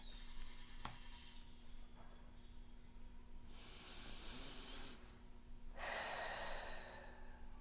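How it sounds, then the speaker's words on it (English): Deep breaths taken during a guided meditation, two long, soft hissing inhale-exhale swells in a quiet room, faint and unhurried with a low steady hum beneath. "let's take a deep breath"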